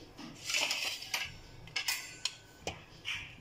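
Knife cutting a block of homemade paneer on a board, producing several sharp, separate taps and clicks at irregular intervals, close and fairly quiet.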